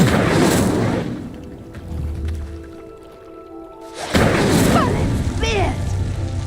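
The Incendio fire spell in Hogwarts Legacy bursts out twice as loud whooshing booms with crackling flame, and a quieter rumbling gap lies between the two blasts.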